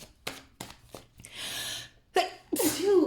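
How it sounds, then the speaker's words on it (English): A few sharp inhaled breaths build up before a loud, forceful sneeze bursts out, followed by a strained gasping exhale close to the listener. "that was an intense sneeze"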